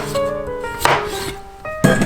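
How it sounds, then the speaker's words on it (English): A knife chops through raw potatoes on a cutting board, cutting them into quarters: several sharp, close, loud cuts with a gap between them, heard alone with no talking. "So I'm gonna cut these potatoes in quarters,"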